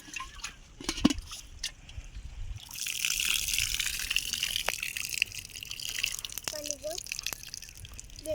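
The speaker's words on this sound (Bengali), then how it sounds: "তো মাছগুলো এখন একটু ধুই। মাছের ভিতরে অনেক কাদা লাগছে, তো এখন ধোবো।" Freshly caught muddy fish rinsed in water in a village setting: steady splashing, trickling and dribbling water close by for several seconds, with a few brief voices in the background.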